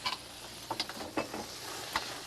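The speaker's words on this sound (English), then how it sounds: "And you saute this" Food sautéing in a very hot pan gives a soft, low-level sizzle broken by a few sharp crackles and spatters at irregular intervals, fairly faint and brief.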